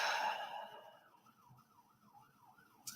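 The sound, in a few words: ambulance siren passing on the street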